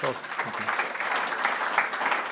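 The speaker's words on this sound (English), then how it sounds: "Big applause for Jose." An audience at an industry conference claps for a speaker leaving the stage, a brief fairly soft burst of applause with a voice briefly audible at the start.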